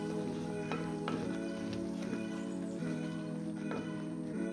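Masala paste frying on low gas for a brinjal curry, a steady close sizzle with faint crackles and a few soft stirring scrapes throughout.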